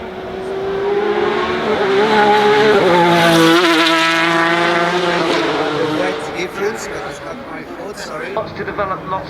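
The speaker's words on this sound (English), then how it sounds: "We've got the Red Bull RX7 here, and it's Patrick Friesecker who's driving it up the hill." Red Bull RX7 race car driving up the hill at the Goodwood Festival of Speed, its loud engine roaring steadily with rising revs under commentator talk before fading away.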